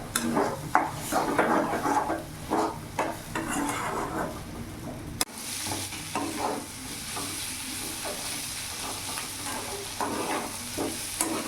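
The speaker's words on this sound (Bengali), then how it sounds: "ডিমের সাথে ভালো করে আমি কষিয়ে নিয়েছি, ভাজা ভাজা হয়ে গেছে।" Beaten eggs with a little salt sizzle in a hot pan as a spatula scrapes and stirs them repeatedly, producing rhythmic scraping strokes over a continuous frying hiss.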